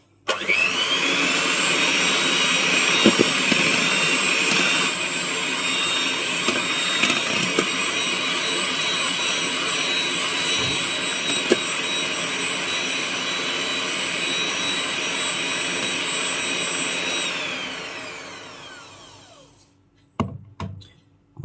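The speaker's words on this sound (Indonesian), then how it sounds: "Kita mixer sebentar ya guys" An electric hand mixer beats martabak batter with a loud, steady high whine that runs unbroken for about seventeen seconds, then winds down and stops, followed by a few light knocks.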